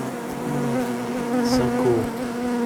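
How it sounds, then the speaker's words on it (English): Dense, steady buzzing of many bees inside a hybrid beehive, close and continuous with a low droning hum throughout. "All them bees in there."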